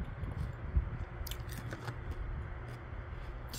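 Crunchy bites and chewing of an apple snack, close and moderately quiet, with a few sharp crisp snaps breaking up steady mastication.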